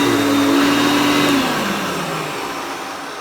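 A Hoover Concept One upright vacuum cleaner runs loud and close on high speed, its motor whine climbing briefly, then settling into a steady roar that eases slightly toward the end.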